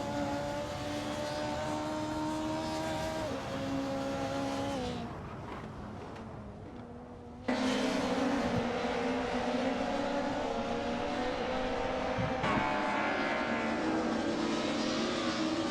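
Race cars in a racing video game, including a 1994 Opel Astra F GSI, engines droning and revving at steady pitch, dropping briefly before a loud surge of multiple engines roaring together.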